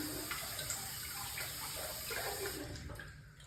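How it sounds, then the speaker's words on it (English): Tap water runs continuously into a sink while a sponge is held under it and wetted. The sound is close and even and fades slightly toward the end, with no talking. "So first I get my sponge and I wet it."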